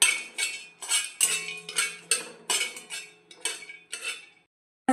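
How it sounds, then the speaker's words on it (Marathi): Whole spices are dry-roasted in a pan, stirred with a metal utensil in a quick series of about a dozen close, bright scrapes and clinks, then a short pause before another knock. "आता खडा मसाला थोडासा भाजून घ्यायचा।"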